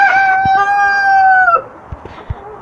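A young rooster crows once, long and loud, then trails off into a few faint clucks from hens and scuffing sounds nearby.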